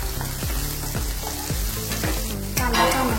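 Onion, tomato and turmeric frying in a pan, a steady close sizzle with recurring stirring scrapes throughout, no voices.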